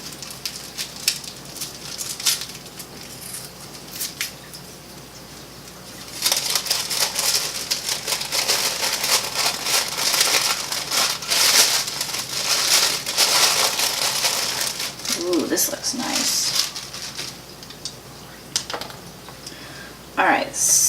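Tissue paper rustles and crinkles as art supplies are unwrapped, with a steady, close crackling that grows louder and denser partway through and continues in busy bursts.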